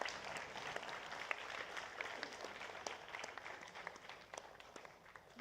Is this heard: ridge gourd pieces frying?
no